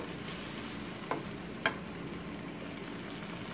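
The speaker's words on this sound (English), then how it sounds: "Give it a good stir." Shrimp peels and white wine being stirred in a pan: a soft, steady sizzle with two quick utensil scrapes or clicks partway through, with no talking.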